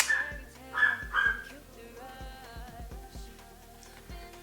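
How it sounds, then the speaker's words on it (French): A dog barks and yips in short bursts several times, fairly close, with some whimpering high tones in between. "ça c'est mon chien."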